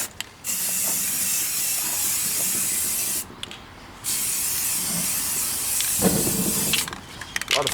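Rust-Oleum spray paint can hissing loudly and steadily, spraying the sides of a 20mm ammo can outdoors, with two short pauses between long continuous bursts.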